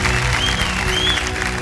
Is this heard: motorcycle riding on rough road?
no